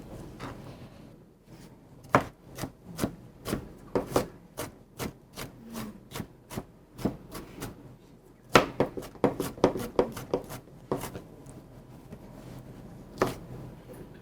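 A knife chops through a red pepper on a board, a quiet close series of sharp wooden taps, irregular then quicker in bursts, with brief pauses between runs.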